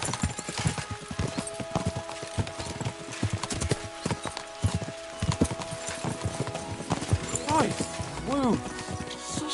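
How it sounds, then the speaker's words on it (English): Horses gallop in the medieval video game Kingdom Come: Deliverance 2, a rapid clip-clop of hooves running throughout, with a whinny near the end while characters speak over the riding. "We should spur the horses on."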